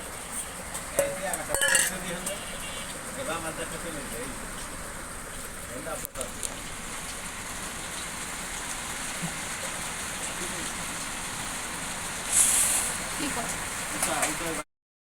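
Rain falls steadily on a house while water leaks inside, producing a continuous soft hiss with occasional clinks of kitchen dishes and a brighter burst of splashing toward the end.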